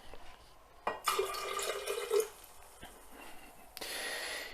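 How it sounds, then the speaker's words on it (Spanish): Half a glass of vinegar is poured into water while preparing a fruit fly culture, a short splashing, trickling pour of about a second that stops and then gives way to faint drips and a quiet background hiss. "meter este vinagre también con el agua."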